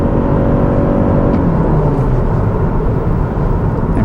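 A 2022 Lexus ES300h hybrid sedan with F Sport suspension and Michelin tires drives quickly through turns, a loud, steady cabin drone of road and engine noise throughout.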